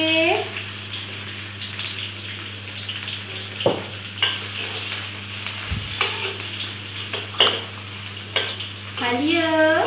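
Onions sizzle and fry in a pan for chicken curry, a steady hiss punctuated by stirring clatter and a few sharp knocks, with someone talking over the cooking.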